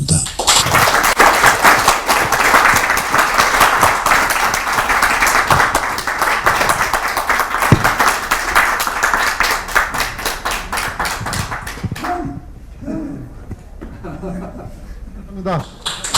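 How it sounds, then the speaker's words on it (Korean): An audience at an academic society's summer conference opening ceremony claps steadily and loudly for about twelve seconds, then the applause dies away and a few murmurs and faint laughter remain. "다시 한번 큰 박수 부탁드리겠습니다."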